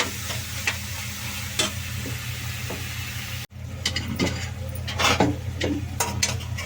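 Telugu-style tempering (talimpu) sizzles steadily in a pan for a tomato dal curry, a constant close hiss with occasional stirring scrapes and clicks, no voices.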